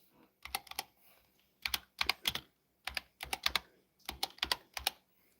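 Typing on a computer keyboard comes in quick clustered bursts of crisp key clicks separated by short pauses, close and fairly quiet, with no talking.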